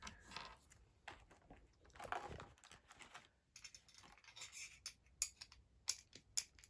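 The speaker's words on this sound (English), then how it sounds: "Need to bring the other scissors back up here because these scissors suck." Scissors cut and scrape at packaging tape on a new TMNT and Demon Slayer action figure box, giving quiet irregular snips, rubs and crinkles with a few sharper clicks near the end.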